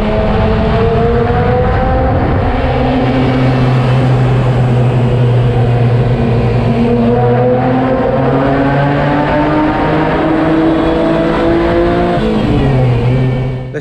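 The engine of a Ferrari Testarossa rat rod roars loudly and continuously, rising and falling in pitch through the revs with a dense, rasping exhaust note and no talking.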